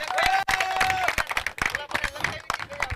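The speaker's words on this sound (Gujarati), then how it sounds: "જોરદાર તાળીઓ મિત્રો" Applause at a cricket league auction event rattles as a crowd claps steadily, with a voice speaking over the clapping and a tone sounding through.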